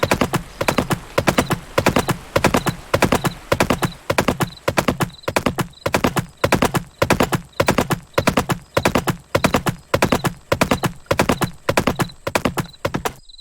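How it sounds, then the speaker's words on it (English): Steady, rhythmic clip-clop of horse hooves at a trot in a video game, close and clear, repeating evenly throughout with no talking. "let's not ride the horse into the church."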